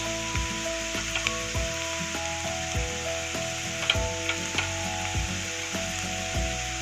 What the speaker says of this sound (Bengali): এই যে পেঁয়াজটা ব্রাউন হয়ে গেছে, এবার অ্যাড করব আদা রসুনের পেস্ট।